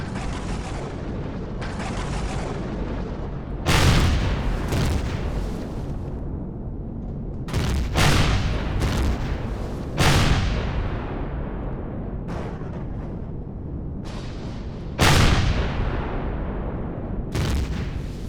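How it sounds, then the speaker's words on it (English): Incoming gunfire in the space survival game Empyrion Galactic Survival: a series of loud booming impacts and blasts at irregular intervals, each with a long decaying tail, over a steady engine-like rumble. "It looks like we're taking some fire"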